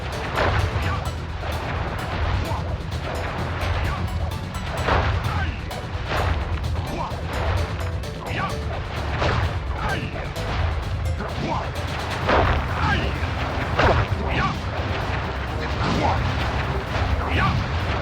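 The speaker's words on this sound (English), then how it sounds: "I will send you to your doom with the beauty of my new firework technique" Repeated booming firework explosions from a boss attack in the Sly Cooper PS2 game roll on continuously and loudly for the whole stretch, with a character's voice speaking over the blasts.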